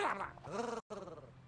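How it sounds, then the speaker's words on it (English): Stitch growls in the video game Disney Dreamlight Valley, a close, throaty growl with rising and falling tones that breaks off briefly and resumes. "Oh my god, he's growling at me."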